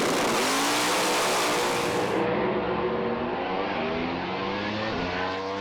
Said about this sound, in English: On track, Sam Fennick edging this car forward